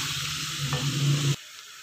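Peas, carrots and other vegetables fry with yogurt in a pan for vegetable pulao, a loud close sizzle with stirring that stops abruptly near the end.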